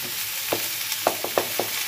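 Cumin seeds frying in a pan for a vegetable curry, with a steady low sizzle and several short crackling pops and spatters spaced irregularly, close by.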